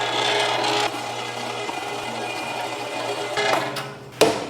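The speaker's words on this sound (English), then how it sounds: "And now that our meat is nice and cold, through the grinder we go." An electric meat grinder whirs steadily as cold sausage meat is forced through it, a close, constant motor hum with grinding texture and a brief clunk near the end.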